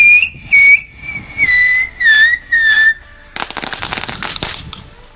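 An Octoplus Heuler whistling firework set off on New Year's Eve gives a series of piercing, wavering whistles in quick bursts, followed by a loud crackling, popping volley close by.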